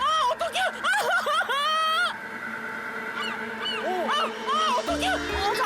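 Seagulls call repeatedly around a fishing boat at sea, a series of loud nearby honking cries, with people exclaiming and laughing over them.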